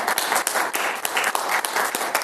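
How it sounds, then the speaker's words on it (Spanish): Applause at a local community history event about the forming of an ejido, a short burst of close, fairly dense clapping from a modest audience. "Un aplauso, por favor."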